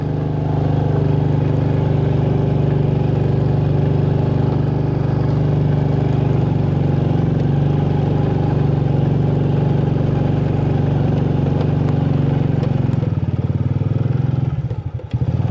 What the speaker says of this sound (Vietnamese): cho mình ngồi xe máy đi một đoạn